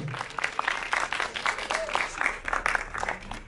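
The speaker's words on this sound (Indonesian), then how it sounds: "Tepuk tangan untuk Martino Leo." Lively applause from an audience at a film trailer and poster launch event, steady and close, while an announcer talks over the clapping.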